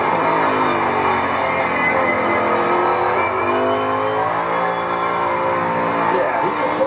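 NASCAR Cup Series race car engines drone loud and continuous, with several sustained high-revving tones layered together and shifting slightly in pitch as the cars run around the track, while commentators talk over them.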